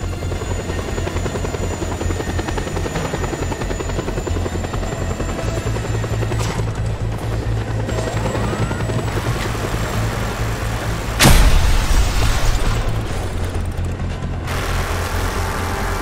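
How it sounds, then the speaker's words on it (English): A helicopter arrives in the video game Just Cause 2, its rotor chop and engine drone loud and continuous throughout, with a sharp burst of noise partway through and no talking. "Chopper arriving shortly."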